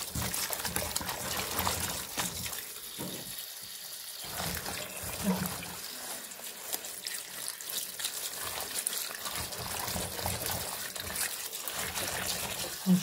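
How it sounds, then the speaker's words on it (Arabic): Tap water runs steadily into a kitchen sink as fresh spinach leaves are rinsed under the stream, a close continuous splashing with brief dips and small surges, alongside someone talking. "عايزه بقى ايه الميه الجاريه كده اهو، وتتشطف كده تحتها اهي"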